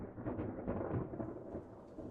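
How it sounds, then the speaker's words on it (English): A thunderstorm with steady rain and low rumbling thunder, continuous and fairly loud throughout with no voices. "an unprecedented shower falls onto us as lightning is heard in the distance"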